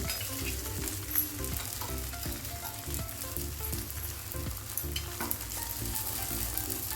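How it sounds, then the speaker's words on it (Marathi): An oats chilla fries in a pan over a low gas flame, giving a steady, soft sizzle close by with faint crackles and occasional light scraping. "कमी गॅसवर मी शेकला होता तर अजून एखादा दहा मिनटं चांगला खालून खरपूस झाला पाहिजे तर आपण उलटून घेऊया"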